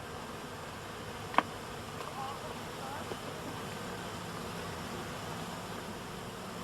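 Honey bees in a swarm box hum in a dense, steady buzz throughout, moderately close, with a single sharp tap and a few faint knocks over the drone.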